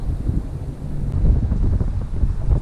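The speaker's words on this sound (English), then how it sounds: "it is really windy today" Strong wind roars and buffets the microphone at the Boca Raton Inlet while fishing, a continuous low rumble with gusts swelling and fading, no voices.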